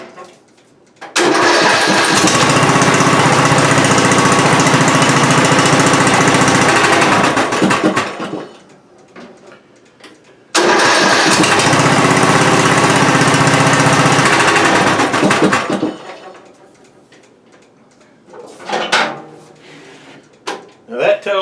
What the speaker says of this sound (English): Now, I'm gonna crank it up, put it in reverse, and slowly let on the brake